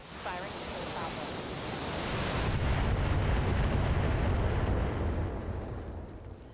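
Heavy weapons fire from mechs in the video game BattleTech, swelling into a loud, sustained low rumbling roar that holds for several seconds before easing slightly at the end.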